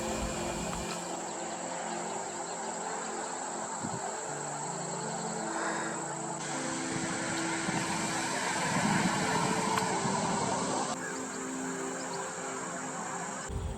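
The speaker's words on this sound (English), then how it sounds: "airplane" A propeller plane drones steadily overhead, fairly faint, with insects buzzing and a distant road hum in the background, at Winnie Palmer Nature Reserve in Latrobe, Pennsylvania.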